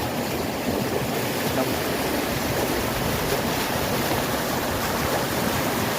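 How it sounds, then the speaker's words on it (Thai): Waterfall and stream water at Khao Thanui, a steady, loud broadband rush of falling and flowing water that continues evenly throughout, with no voices. "คืนนี้ก็ได้ยินเสียงเสียงน้ำตกแน่"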